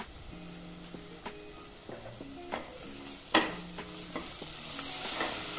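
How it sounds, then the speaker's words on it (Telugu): Ginger garlic paste and spices fry in a pan under a soft continuous sizzle, while a spatula stirs and scrapes in repeated rhythmic strokes with occasional sharper clinks, close by and with no talk. "ఈ మసాలాలు అల్లం వెల్లుల్లి పేస్ట్ బాగా ఫ్రై కావాలి."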